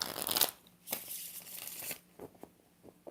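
Tarot cards being shuffled, a dense papery riffle at the start, then a few short flicks and card snaps spaced apart, close and fairly quiet with no talking.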